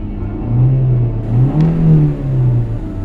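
A car engine revs and rumbles steadily as the vehicle turns around and pulls away, with low, rising and falling engine tone that swells twice over a few seconds, no voices present.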